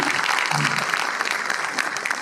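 An audience at an all-India Hindi poetry gathering applauds steadily to welcome a guest, a dense, fairly loud wash of clapping with a brief voice in the middle.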